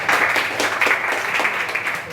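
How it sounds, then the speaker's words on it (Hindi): A class gives a student a round of applause during an accounting lesson on trial balances: loud, close, steady clapping from a group of people, with a faint voice mixed in. "ताली बजा दो बच्चे के लिए।"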